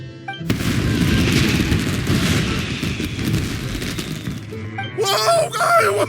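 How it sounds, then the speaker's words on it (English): Fireworks burst in the video game Genshin Impact: a dense run of loud booms and crackles, followed by a voice exclaiming near the end. "Yoimiya, this is turning into a bit of a fireworks display."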